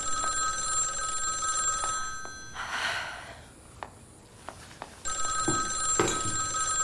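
An old-style telephone bell rings indoors in two separate bursts of bright, steady ringing, with a quiet gap and a few soft breaths and knocks between them.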